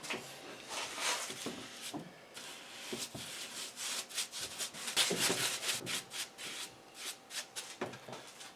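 Repeated scratchy brushing strokes scrape steadily across a Husqvarna YTH21K42 mower deck as it is painted close by, a rhythmic rubbing with no talking.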